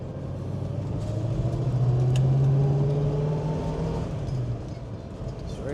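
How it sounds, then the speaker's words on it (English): Engine of a 1965 Ford Mustang GT with a blown exhaust gasket, a steady low rumble during a drive that swells and rises in pitch midway, then settles back, heard alone without speech. "We have an exhaust gasket that has just let loose on us in this drive."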